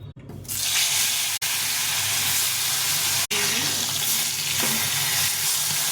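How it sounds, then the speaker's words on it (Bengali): Marinated bata fish fry in hot oil with a loud, continuous hissing sizzle that starts abruptly and holds steady, briefly dipping twice. "এগুলো মেখে নিয়েছি, এখন ভেজে নেব"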